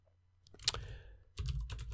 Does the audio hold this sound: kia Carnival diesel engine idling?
no